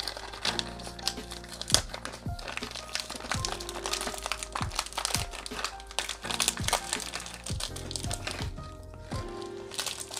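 A plastic bag holding a set of four RC wheels and tires with 5mm hex hubs crinkles and crackles continuously as it is handled and pulled open, with occasional sharper snaps, close and fairly quiet.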